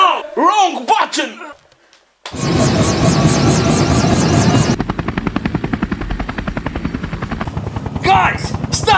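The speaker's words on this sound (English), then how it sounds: "Helicopter! Helicopter!" A loud helicopter roars with thumping rotor blades, preceded by shouting voices, then the rotor chop becomes a rapid, steady pulsing that continues to the end.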